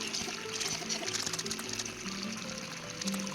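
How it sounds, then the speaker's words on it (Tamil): Water pouring from a tap opened in a Tom and Jerry video game, a steady, fairly quiet splashing stream running continuously under faint background game sounds. "இது தண்ணி திறந்து விட்டேன்."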